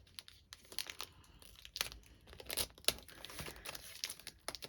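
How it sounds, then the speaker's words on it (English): Crinkly plastic packaging from a paper-crafting memory notebook kit is poked through with a small pointed tool, giving soft, close crackles and a few sharp crinkling bursts with brief tearing scratches, quiet and without talk. "Let me get my little pokey tool again and poke through."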